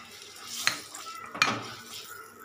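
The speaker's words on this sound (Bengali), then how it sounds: "এই মশলাটাকে একটু নাড়িয়ে নেবেন সুন্দর করে, মশলাটা যাতে পুড়ে না যায়।" A spoon scrapes and clinks twice against a pan while spice masala with kasuri methi is stirred, two sharp metallic knocks over a faint sizzle.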